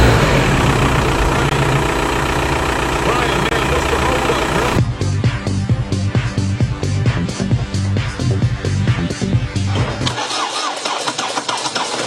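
Diesel tractor engine running, a loud steady low rumble that shifts after a few seconds into a rhythmic chugging idle with knocking pulses, then the lowest tones drop away near the end.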